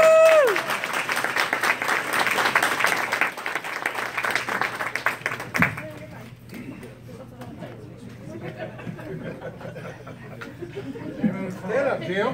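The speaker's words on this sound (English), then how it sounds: "Give us a hand." An Independence Day crowd applauds veterans, dense clapping for about five seconds that then thins into scattered claps and chatter, with people talking nearby.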